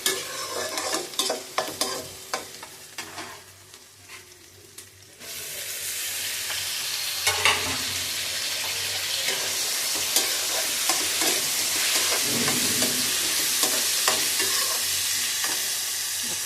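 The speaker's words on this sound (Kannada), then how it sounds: "ಚುರುಮುರಿ ಇದ್ದು ರೀ. ಅದಕ್ಕೆ ಹಂಗತ್ತೇಳಿ ಚುರುಮುರಿ ಸುಸ್ಲಾನೆ ಮಾಡಾಕತ್ತೀನಿ ನೋಡಿ." Churumuri susla, a puffed rice dish, being stirred and fried in a pan, with a steady sizzle and repeated scraping strokes that grow louder and denser partway through, up close with no talk.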